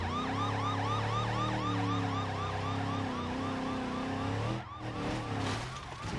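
A police car siren wails in the driving game BeamNG.drive, loud and close with a fast repeating yelp pattern and a low engine drone beneath, cutting off abruptly near the end as a crash-like burst takes over.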